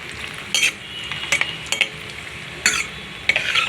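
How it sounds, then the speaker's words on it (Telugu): Cashews frying in a pan for a boondi cashew curry, with a steady sizzle broken by several sharp scraping stir strokes, close and fairly loud. "జీడిపప్పు అయితే వేగుతుంది"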